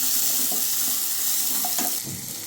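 Steady sizzling of chopped onions frying in a hot pan, with a few soft stirring scrapes and clinks near the end.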